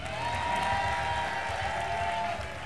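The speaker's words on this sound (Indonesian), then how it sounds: "tepuk tangan dong untuk Gifty" An audience applauding and cheering for Gifty, a performer on a stage talent show, in a steady, fairly loud wash of clapping that fills the whole moment.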